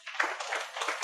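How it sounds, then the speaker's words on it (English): A small audience at an authors' podcasting session gives a round of applause. A few hands clap in a faint, brief patter of uneven bursts lasting about a second. "Everybody give him a round of applause"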